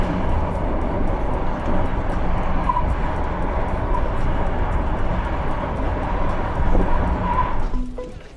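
An electric Mercedes G-Class turns on the spot, giving off a steady loud rumbling roar of tires and motors for several seconds that fades out abruptly at the end, with no talking.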